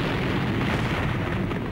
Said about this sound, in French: Les Nord-Vietnamiens apprennent rapidement à concentrer leurs tirs sur la piste d'atterrissage